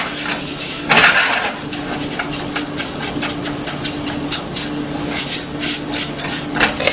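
Noodles being mixed while they brown in a pan, with rapid repeated scraping and clattering strokes of a utensil against the pan over a steady frying background, close and fairly loud.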